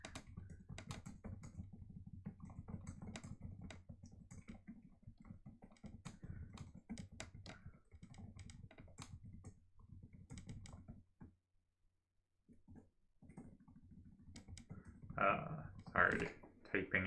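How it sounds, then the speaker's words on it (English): Keyboard typing at a computer, a quick irregular patter of clicks running under steady talk for most of the stretch, stopping briefly before resuming with louder bursts near the end. "Sorry, typing at him."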